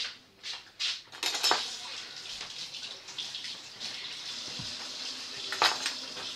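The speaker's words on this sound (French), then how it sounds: "je vais me laver les mains" Running kitchen tap water splashes over sticky hands being washed while cooking a potato and chicken gratin, a steady close hiss with a few clinks of dishes and brief louder splashes.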